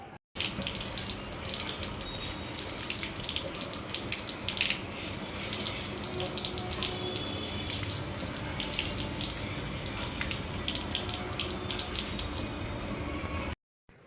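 Puja utensils are washed under a running tap, a continuous steady gush of water splashing into a sink for several seconds, with faint clinks of metal vessels and no speech.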